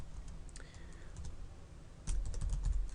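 Code being typed on a computer keyboard: rapid, uneven key clicks close by, growing louder and busier toward the end of the short clip.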